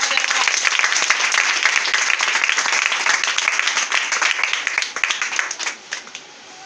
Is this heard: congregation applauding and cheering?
yes